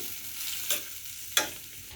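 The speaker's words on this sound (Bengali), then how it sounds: "পেঁয়াজ আর কাঁচামরিচ দেওয়ার পর নাড়াচাড়া করে নেবেন" Chopped onion and green chilies fry in soybean oil in a pan, a faint steady sizzle broken by two brief scraping strokes of a stirring spoon.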